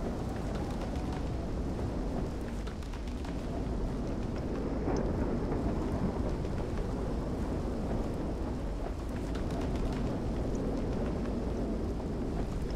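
A dense, roaring thunderstorm in the Minecraft Weather and Tornadoes mod, version 1.10.2, with a constant wash of rain and wind and low rumbling, occasional cracks rising out of the steady noise.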